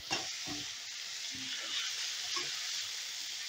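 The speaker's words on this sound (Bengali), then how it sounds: "এবার এই পেঁয়াজটাকেও হালকা লাল লাল করে ভেজে নেব" Onions sizzle with a pinch of salt in a pan, a steady bright frying hiss broken by a few soft stirring scrapes, close and continuous.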